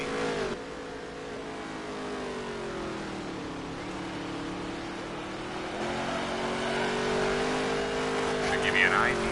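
Onboard engine of a dirt race car lapping Dreeben Motor Speedway in a NOSSCAR Dirt Touring Series championship race, a steady loud drone with shifting pitch as it rolls around the track, a commentator talking over it throughout.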